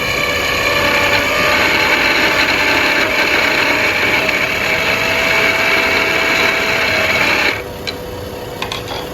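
A wood lathe gouge cutting into a spinning wooden top makes a steady, loud scraping whir that holds for about seven seconds, then stops abruptly, leaving a quieter workshop background with a few faint ticks.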